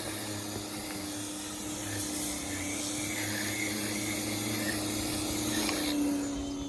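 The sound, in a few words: power washing an RV roof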